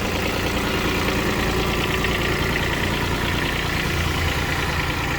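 A Mitsubishi MT-135 three-cylinder mini tractor engine runs steadily close by as the tractor drives off, a continuous loud, rough mechanical drone with a fast knocking beat that holds at an even level, with no voices.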